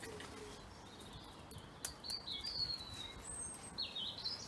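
Faint, high chirps and tweets from birds at a feeder in the early morning come in short calls over a quiet outdoor background, a few scattered notes near the end.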